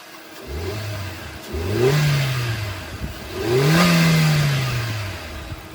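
A 2020 Hyundai i10 Nios petrol engine idles, then revs up twice under the accelerator, each rise swelling and falling back. The revs are fairly loud and close, with no talking.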